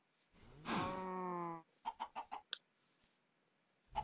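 A wild chicken in the modded Minecraft pack Simple Life 2 gives a drawn-out squawk followed by a quick run of short clucks, close and clear with no talking over it.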